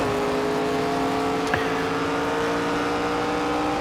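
Steady, droning race car engine note from NASCAR 25 on an ARCA Series timed practice lap on PS5 Pro, held at an even pitch throughout with one brief click near the middle.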